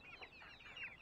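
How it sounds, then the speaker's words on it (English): An African guinea fowl gives a short run of harsh, rasping clucks, faint and somewhat distant, over a quiet background. "A guinea fowl."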